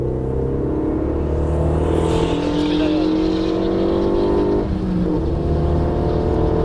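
A Renault Mégane RS driven hard at full throttle, with a loud continuous engine roar and a steady high drone that dips briefly near the end, recorded from close by.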